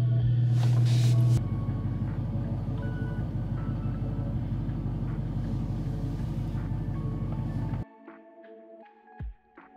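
A supercharged Dodge Charger Redeye pulls out and drives, its deep engine rumble steady and loud before cutting off near the end, with a brief louder burst at the start.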